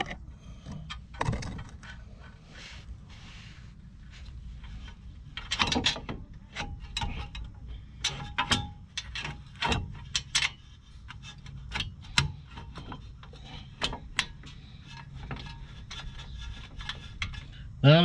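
A brake caliper bolt is being reinstalled on a 2015 Nissan Versa, giving close, irregular metallic clicks and ratcheting ticks of a wrench working on the fastener.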